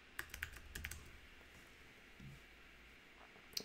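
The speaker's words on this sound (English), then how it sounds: "we're just going to type Merry Christmas" Keys tapped on a computer keyboard while typing a short phrase of text in Cricut Design Space; a quick burst of soft, close clicks for the first second, then quiet with a single click at the end.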